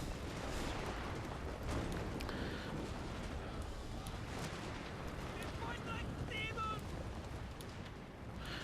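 Massed musket and rifle fire from troops in a Total War: Shogun 2 Fall of the Samurai battle, a dense continuous rumble of gunshots and battle noise throughout, with voices faintly mixed in.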